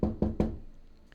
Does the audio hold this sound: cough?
no